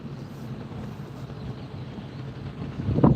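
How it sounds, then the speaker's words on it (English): A motorboat of about 16 to 18 feet rumbles low and steady over wind noise, growing louder near the end as it approaches. "I'm gonna turn the camera around, see if you guys can see this boat coming."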